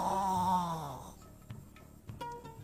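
A voice imitates snoring with a long, drawn-out nasal snore, followed by a few soft, scattered breathy clicks and snorts close to the listener.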